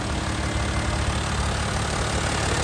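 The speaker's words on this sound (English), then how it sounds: "There's this beautiful inline 6 3-liter twin turbo engine." A BMW 335d E90 with a 3-liter inline-six twin-turbo diesel idles at 100K miles, a steady, dense, close rumble with no voices.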